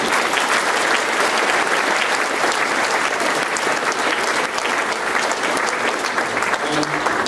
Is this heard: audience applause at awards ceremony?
yes